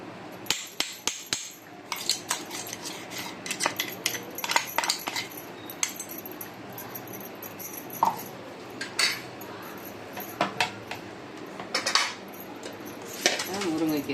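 Metal spoon scraping and tapping moringa leaf powder out of a mixer jar, a run of irregular sharp clinks and scrapes, some close and crisp, with quiet pauses between them.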